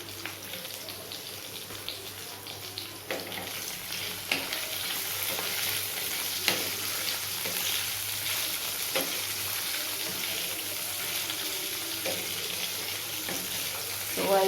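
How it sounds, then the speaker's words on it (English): Soya chunks being stir-fried in a pan with a little salt: a steady sizzle with repeated scraping stirs of the spatula close by, and no talk. "So I'll be stirring it for another 2 minutes"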